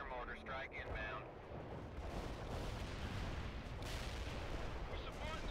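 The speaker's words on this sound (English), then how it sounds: "Mortar strike inbound." Mortar strike in the World in Conflict video game, heard as a dense, continuous roar of explosions and battle noise, loud and sustained throughout, with bursts layered over a constant rumble.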